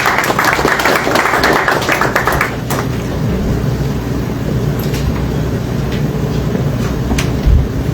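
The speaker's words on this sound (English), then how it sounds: "Please give them a round of applause." An audience claps at a World Bank policy launch event, with dense applause over the first couple of seconds that thins to scattered claps and room noise.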